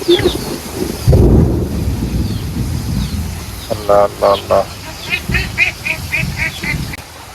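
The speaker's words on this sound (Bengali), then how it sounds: "বজ্রপাত হইতেছে প্রচুর" A deep rumble of thunder rolls in over steady rain, followed by a run of short, tonal calls or voices against the wet background.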